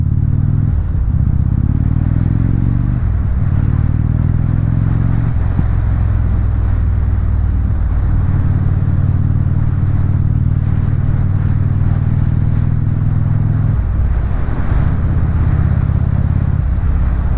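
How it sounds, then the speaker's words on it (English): A motorcycle fitted with a Rush Performance exhaust idles and revs loudly up close, its deep engine note rising and falling in repeated throttle blips with no talk over it. "I just picked up my bike where my guy put on the Rush Performance exhaust for me"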